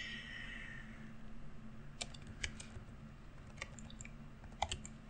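Fingers type a name on a computer keyboard, giving faint, close, irregular key clicks in short clusters over a steady low hum.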